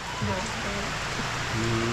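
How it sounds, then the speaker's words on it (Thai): Rain falls steadily in a continuous close hiss, while people talk over it throughout. "ฝนตก ฝนตกเนาะ"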